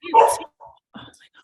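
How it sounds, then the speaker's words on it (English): A dog barks once loudly and close, followed by two fainter, shorter yips or whimpers at the end of a brief, otherwise quiet stretch. "that is my dog barking"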